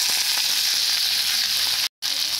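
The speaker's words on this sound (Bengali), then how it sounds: "আদা রসুন আর পেঁয়াজ আমি ভালো করে ভেজে নিচ্ছি" Ginger, garlic and onion fry in hot oil with a steady, loud, close sizzle that holds throughout, broken by one brief dropout near the end.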